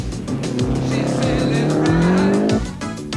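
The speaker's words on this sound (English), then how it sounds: "The tight and twisty stage didn't suit the legacy, and try as he might, Alain dropped further behind." A Subaru Legacy rally car on a tight, twisty gravel stage at the 1991 Rally New Zealand, engine revving loudly up through the gears with rising pitch and a tire squeal, close and continuous while a commentator talks over it.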